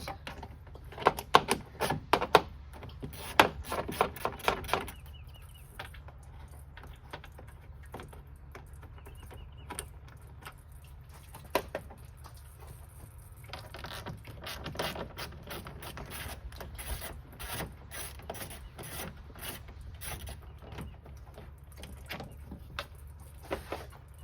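Bolts being removed from the fan shroud of a Ford Ranger with a 2.5L engine, heard as bursts of rapid clicking ratchet strokes and metallic rattles, close and fairly quiet, with pauses between runs and no talking.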